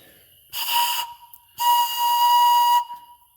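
A homemade pan flute tuned to a minor pentatonic scale, with two breathy, airy blown notes heard alone: a short one, then a longer sustained tone.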